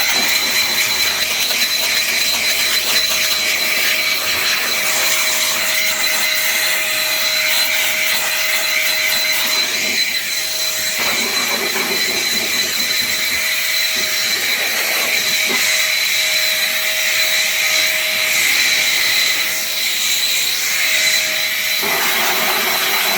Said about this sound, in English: it seems like this is a really nice blower system